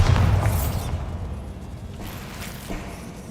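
The Bombarda spell goes off in the video game Hogwarts Legacy as one heavy, booming explosion at the start, followed by a rumbling decay that fades into quieter ambience.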